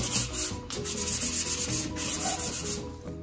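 Furniture surface on a buffet and hutch being hand-sanded with 400 grit sandpaper, a soft, close, steady back-and-forth scratching rub in quick repeated strokes, quiet and without voices.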